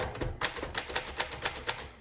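Typing on a 1950 Underwood Champion manual typewriter: a steady run of about a dozen crisp, close mechanical keystrokes with light clacks between them, heard alone.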